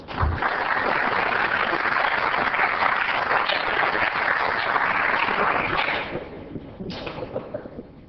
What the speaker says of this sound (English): Let's help Scott celebrate with a round of applause.